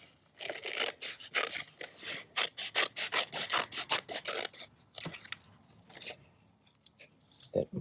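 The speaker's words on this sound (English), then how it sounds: "first thing I'm going to do is just grab some scissors and" Scissors snip quickly through paper while a freehand shape is cut out for a mixed media piece, a run of crisp, close cuts in an irregular rhythm with short pauses between.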